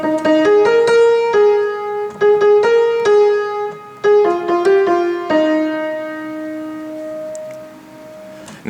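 Piano playing a vocal line, a simple melody of single repeated and stepping notes, clear and close, ending on a long sustained note that slowly fades.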